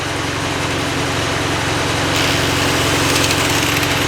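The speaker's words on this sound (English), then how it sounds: "Let's fire it up and see if the grinder works. Alright, here's the test. I have it just on low idle." Miller Big D2 welder engine idling low, a loud steady rumbling drone heard close up with no pauses and no talking.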